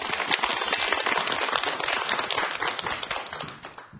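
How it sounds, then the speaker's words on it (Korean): Studio audience applause fills a television lecture hall, dense steady clapping from many hands that holds loud for several seconds before tapering off toward the end. "박수 부탁드릴게요"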